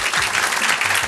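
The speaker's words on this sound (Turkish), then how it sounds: "İkisi bir arada bir alkışlayalım." Applause from an audience at a quiz night fills the room, a steady dense patter of many hands clapping at close range, carrying on without pause.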